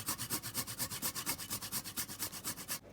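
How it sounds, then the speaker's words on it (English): Fresh whole nutmeg grated by hand for an orange sponge cake, a quiet, close, rhythmic scraping with even back-and-forth strokes, about seven per second, and no talking. "gonna go in now with some nutmeg, freshly grated nutmeg"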